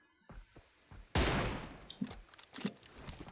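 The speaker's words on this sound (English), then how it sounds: "But instead he's shooting at us here." Enemy gunfire cracks in PUBG Mobile on the Miramar map, a loud close burst of shots followed by several scattered, fainter reports, with no talking.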